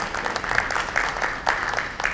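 Audience applause following a keynote speech at a securities forum, a steady dense clapping from a large crowd filling the room, with a few sharper claps standing out, continuous for about two seconds.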